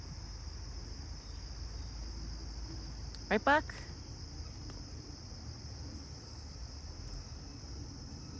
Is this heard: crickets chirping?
yes